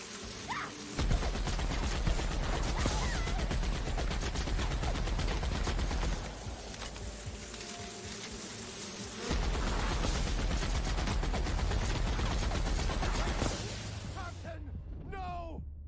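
Rapid gunfire bursts from The Outer Worlds, Murder on Eridanos DLC, crackle loudly and densely through most of the stretch, dropping briefly to a quieter lull before resuming, with a dense layered battle mix throughout.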